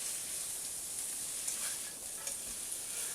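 Beef, pork steak and sausage sizzle steadily in a pan as they are stir-fried with vegetables for special fried rice, a soft, close hiss with a few faint scrapes of stirring.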